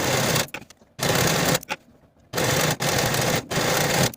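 A sewing machine finishes the shoulder and side seams of a top in loud, close runs of rapid mechanical chatter, broken by brief pauses between passes.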